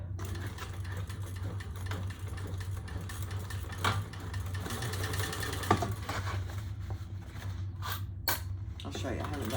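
A sewing machine stitches down the sides of a fabric bag, a steady mechanical hum and rattle running throughout, with a voice talking over it.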